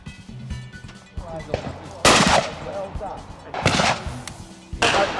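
Shotgun shots fired at clay targets on a shooting ground, several loud sharp bangs spaced a second or two apart, heard close amid outdoor noise and some voices.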